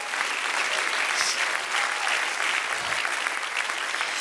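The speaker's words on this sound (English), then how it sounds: "will you clap and shout with great faith in your heart?" A church congregation claps and shouts in response to a sermon, producing dense, sustained applause with scattered cheers that fills the room evenly throughout.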